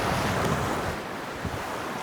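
Sea waves wash ashore at Molo Polo beach, a continuous broadband roar of surf mixed with gusting wind noise buffeting the microphone, loud and close, with no voices.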